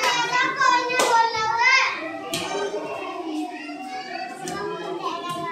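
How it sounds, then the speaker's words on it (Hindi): Schoolchildren at a primary school clapping their hands, scattered sharp claps popping out over lively children's chatter and an adult voice talking throughout. "ताली बजाइए"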